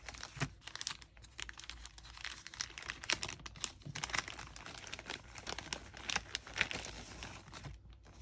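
A crinkly pack of vintage Valentine cards is handled and opened, giving soft, continuous crinkling and rustling with small crisp tearing snaps, close and fairly quiet.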